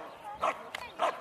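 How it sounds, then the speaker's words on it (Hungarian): A dog at a dog school training demonstration at a village festival gives two or three short barks within about a second, at moderate distance. "egészen addig ugat, amíg a gazda be nem érkezik mellé."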